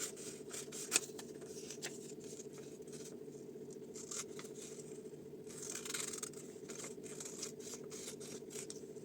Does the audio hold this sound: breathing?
no